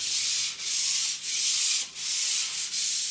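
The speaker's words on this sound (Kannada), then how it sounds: "ಈಗ ಸ್ಟೇರ್ ಕೇಸ್ ಕೆಳಗಡೆ ಉಜ್ತಾ ಇದ್ದಾರೆ." Steady, close abrasive rasping of a wall being sanded under a staircase, long strokes with brief breaks between them, harsh and hissy, no voices.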